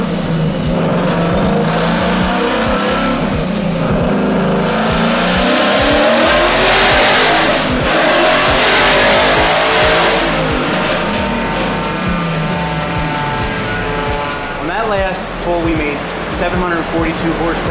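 A twin-turbo Hellion-kitted Ford Mustang GT with a 5.0 Coyote V8 on a dyno, loud and close, the engine revving hard through a rising pull with turbo whistles, then backing off, with people talking over it.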